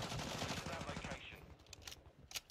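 Rapid bursts of gunfire from a shooter video game rattle through the first half, then give way to sparser clicks and quieter game sounds, with a voice faintly present.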